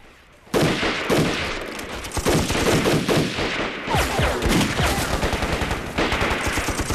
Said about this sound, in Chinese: 等我开枪之后你再开枪。